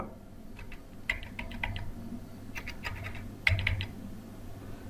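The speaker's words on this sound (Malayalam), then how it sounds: "തുടർന്ന് ഒരു ഫോൺ നമ്പർ ടൈപ്പ് ചെയ്ത് നൽകുക" Quick, irregular key taps in short bursts, fairly close, over a low steady background hum.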